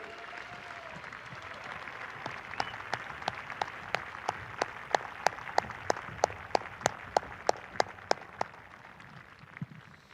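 Faint, distant crowd at Port Royal Speedway during a Kubota High Limit Racing night, clapping in a slow, evenly spaced rhythm of sharp claps that builds over several seconds before trailing off.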